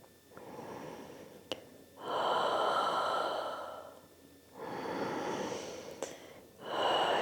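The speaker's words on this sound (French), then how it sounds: "Et on va prendre 2 grandes respirations ici." Two long, deep breaths are taken slowly during an evening yin yoga session. Each is a soft, airy rush of breath, close and unhurried, with quiet pauses between them.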